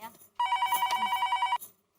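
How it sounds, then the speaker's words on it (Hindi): A telephone rings in a household scene, one continuous trilling electronic bell burst of about a second, loud and close, with brief talk just before and after. "अरे दया फोन ले जरा"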